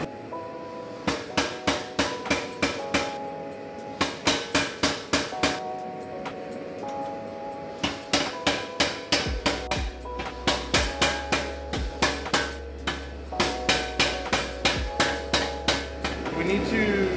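Hammer forging a san mai billet of wrought iron and steel, flattening it: steady rhythmic series of ringing metal blows in bursts with short pauses, later joined by a low continuous hum from machinery.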